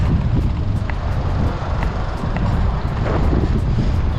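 Strong wind with 45-mile-an-hour gusts buffets the microphone in a constant low roar, with gusts surging and easing throughout.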